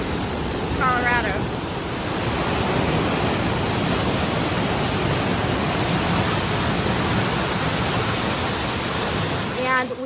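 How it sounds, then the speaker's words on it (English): Box Canyon Falls, a waterfall in a narrow canyon near Ouray, Colorado, roars as a loud, steady broadband rush that fills the whole stretch, with no talk over it. "This is Box Canyon Falls in Uray, Colorado."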